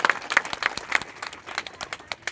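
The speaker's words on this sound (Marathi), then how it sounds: "सगळ्यांनी स्वतःसाठी टाळ्या वाजवा जोरदार" A crowd at an inauguration event applauds in a brief burst of many hands clapping together, fairly close and lively, with no talk over it.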